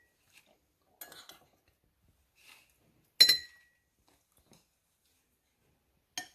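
Ingredients go into a glass while falooda is assembled, giving several separate light clinks and taps of glass and spoon spread through quiet pauses, one sharper clink standing out midway, no talk.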